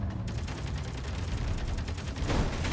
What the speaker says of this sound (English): Come on, turrets, shoot more.